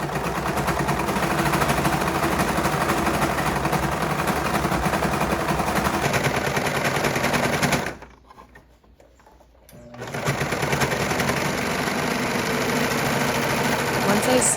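A serger stitching the white brim onto a Santa hat made from towels, a steady fast whirring hum that stops briefly midway and then resumes, with a voice talking over it.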